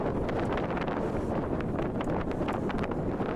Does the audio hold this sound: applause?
no